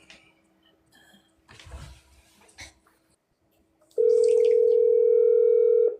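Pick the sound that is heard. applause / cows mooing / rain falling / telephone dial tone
telephone dial tone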